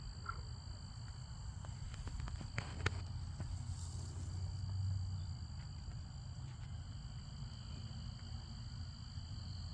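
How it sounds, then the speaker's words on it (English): Outdoor night ambience with frogs and crickets: low croaking pulses under a steady insect chirr, fairly faint and distant, with a few soft clicks and rustles. "There's a frog over there."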